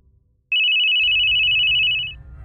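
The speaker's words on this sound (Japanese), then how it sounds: "トイレの外から着信音が聞こえる。" A phone ringtone sounds as a single loud, steady electronic tone lasting about a second and a half, heard from outside a train station toilet, with a low rumble underneath.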